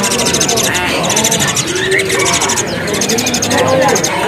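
Javan pied starling chicks give rapid, chattering calls, close and continuous, mixed with a person talking over them.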